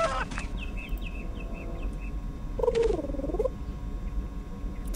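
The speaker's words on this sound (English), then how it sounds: "the bird sounds completely different now" In the video game A Final Unity, birds call over a low background hum: a quick series of short chirps, then a louder warbling call.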